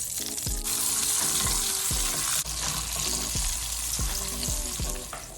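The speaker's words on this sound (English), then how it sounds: "here we go with more zucchini in the pan." Zucchini frying in a hot pan gives a steady, close sizzle with occasional clinks and scrapes as the pieces are stirred, heard alone without talk.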